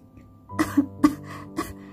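A woman coughs hard several times in a row, close and clear, with short forceful bursts and a brief throaty breath between them.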